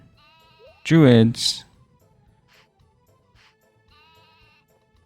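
A sheep in the Harvest Moon 64 video game gives one loud, wavering bleat, preceded by a spoken word, with faint game chimes and tones continuing quietly afterward.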